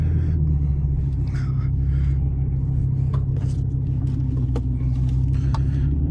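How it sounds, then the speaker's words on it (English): Car that has sat unused for over a year spinning its wheels as it accelerates on a slippery surface, a loud sustained engine rumble with scattered scrabbling and clicking noises over the top. "We've got some wheel spin."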